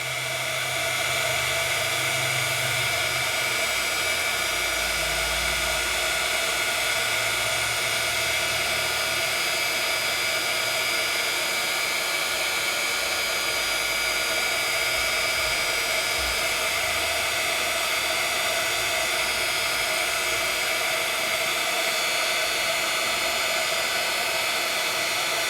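Heat gun blowing steadily to melt embossing powder on copper stencil work, a continuous loud whooshing hiss that holds unchanged for the whole stretch with no talking.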